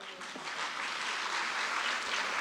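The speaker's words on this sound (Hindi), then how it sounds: "जोर से तालियां." An audience claps together throughout, steady and dense, responding at a speech given at a Vishwamangalya Sabha gathering; no voice is heard over the applause.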